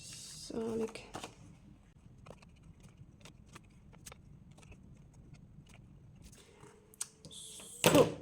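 Scissors round off the corners of paper pieces for a junk journal, producing a handful of quiet, sharp snips spaced a second or so apart, close by, with soft handling rustles between them.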